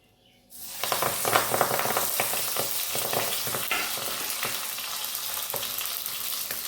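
Fish sizzling in a hot pan in a village kitchen, a steady loud crackling hiss that starts abruptly and keeps going throughout with small spitting pops.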